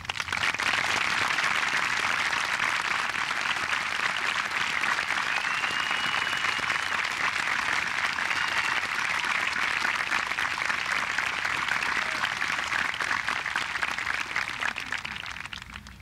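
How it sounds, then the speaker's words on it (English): A large crowd at a 2002 Chillicothe High School graduation ceremony in Ohio gives sustained, even applause for standing veterans. The dense clapping continues without a break throughout and tapers only slightly at the very end. "please stand as we honor you with a heartfelt round of applause"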